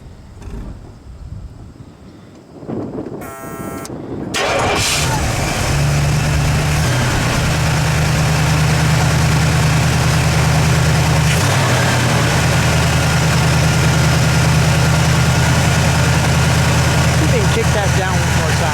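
1970 Oldsmobile Toronado GT 455 V8, front-wheel drive, cranking briefly on the starter before catching and settling into a loud, deep, steady idle close by, with some voices around it.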